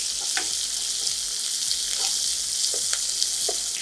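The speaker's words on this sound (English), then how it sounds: "We have to fry the onion beyond the golden brown color." Sliced onion fries with jeera for jeera pulao, giving a steady, close, bright sizzle in hot oil with occasional pops and stirring, and no voices.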